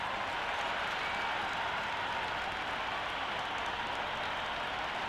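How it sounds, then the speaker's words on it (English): A cricket crowd at a Caribbean Premier League match between Guyana Amazon Warriors and St Lucia roars and applauds in a dense, continuous wash of cheering and clapping throughout. "this crowd is already making it hard for me to be heard"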